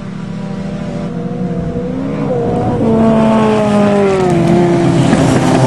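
Standard Japanese tuner cars with five-speed manual gearboxes race past, loud and close, engines revving and rising in pitch together as they accelerate, with layered whines sweeping upward and a faint tire squeal.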